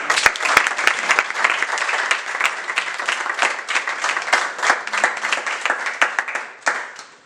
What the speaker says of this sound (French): il faut applaudir le Seigneur.